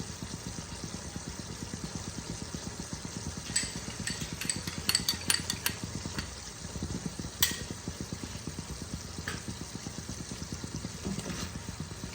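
Poppy seed paste is stirred into a no-onion, no-garlic matar paneer curry with turmeric. The spoon scrapes at a steady, rapid rhythm over a low, continuous kitchen hum, with a few brighter clinks midway.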